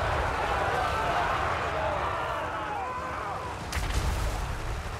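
Distant artillery bombardment rumbles through a Total War Warhammer 3 battle for a capital city, a steady dense roar of explosions and battle noise with a sharper blast near the end, continuous and fairly loud.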